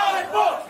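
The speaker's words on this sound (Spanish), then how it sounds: "Ustedes griten, hagan lo que quieran para apoyar." A crowd at a freestyle rap battle shouts and cheers in support, a dense burst of many voices yelling together, loud and close for under a second.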